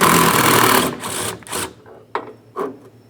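An 11mm socket tool works a grille mounting nut on a 1998-2002 Lincoln Navigator, giving a rapid, buzzing ratchet-like rattle that stops after about a second, followed by a few scattered clicks and clanks.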